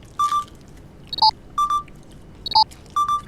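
A satellite phone plays its call tone, a repeating electronic pattern of short paired beeps at different pitches, clear and close over a quiet background.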